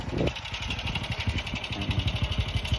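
A motorcycle engine runs close by with a steady low throbbing idle and small rhythmic pulses, under a faint high whine and background noise.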